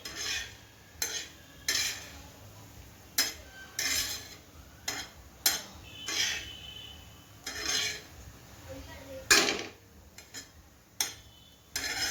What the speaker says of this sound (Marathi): आपल्याला एकसारखी हलवून घ्यायची आहे आणि व्यवस्थितपणे परतून घ्यायची आहे